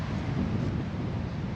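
Gale-force wind buffeting a microphone on an open golf course, a loud steady broadband roar with no pauses and no talk.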